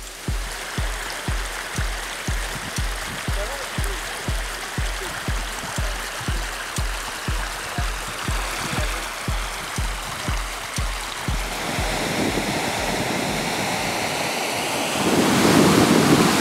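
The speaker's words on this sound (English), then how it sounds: "there's a phenomenal amount of meltwater that's coming off the Turner Glacier" Steady rushing glacial meltwater flowing off the Turner Glacier, a broad continuous wash with a regular low pulsing underneath that gives way to a louder, windier roar near the end.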